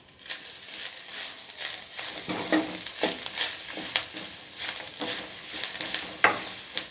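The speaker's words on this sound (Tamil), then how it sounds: "காஞ்ச மிளகாய், கருவேப்பிலை, தேங்காய் நல்லா வறுத்துக்கோங்க." Dried chillies, curry leaves and coconut roast in a pan, with a steady dry sizzle broken by repeated sharp scrapes and clinks of a stirring spoon, close and fairly loud throughout.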